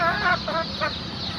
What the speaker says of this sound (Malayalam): നല്ല ആക്റ്റീവായ നാടൻ കോഴികളാണ്